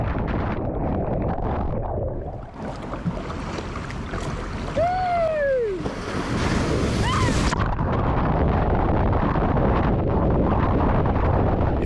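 Surf breaking near shore off Vero Beach, Florida, heard from a kayak as a loud, steady wash of water with wind buffeting, swelling in a burst midway before settling back.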